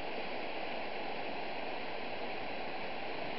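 A river courses under a bridge in a continuous, full hiss of moving water, unchanging in level and heard near and alone for a few seconds.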